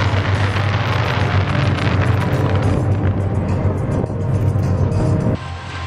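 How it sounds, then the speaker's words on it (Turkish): Fireworks display bursting over a stadium at the close of an opening ceremony for the Islamic Solidarity Games, heard as a dense, continuous rumble of booms and crackles with a deep low roar, loud and steady before easing near the end. "Muhteşem bir havai fişek gösterisi son olarak"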